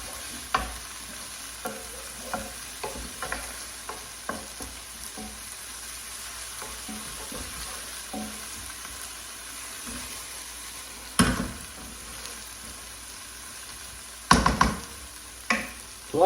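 Garlic paste frying in a pan for butter chicken, a low steady sizzle broken by repeated scraping stirs and a few sharper knocks of the spoon, close and quiet with no talking.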